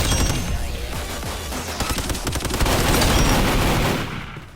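Rapid bursts of gunfire in a Roblox gun game, dense overlapping shots that build to a sustained volley before cutting off near the end.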